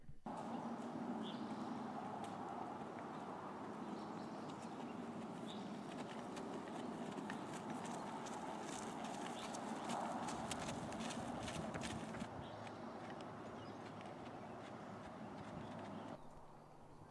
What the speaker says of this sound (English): Now she kicks it up into a slightly faster pace. This is the trot, or trotting.